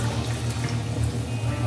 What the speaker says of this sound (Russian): я наливаю стакан теплой воды